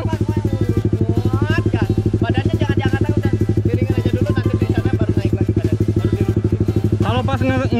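A motorcycle engine revs hard while taking a right-hand corner, a loud close rhythmic throttle drone rising and falling across the whole stretch.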